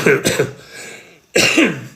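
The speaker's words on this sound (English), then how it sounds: "oh look, that's the first cough of this whole live" Two sharp, close coughs, the first a quick double hack, then a short pause and another throaty cough.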